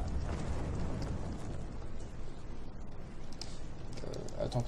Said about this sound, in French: L'explosion, c'était vraiment nécessaire.